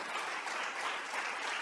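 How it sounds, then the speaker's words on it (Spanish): Congregation applauding loudly at a church service, a dense steady wash of many hands clapping at close range throughout, with no voices rising above it. "Fuerte ese aplauso a nuestro Dios."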